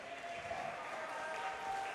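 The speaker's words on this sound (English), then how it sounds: "Ricky Sendra deserves that applause from the crowd here at the Rizal Memorial Stadium" A stadium crowd at Rizal Memorial Stadium claps for a substituted player during a football match, a faint, steady spread of applause heard from a distance.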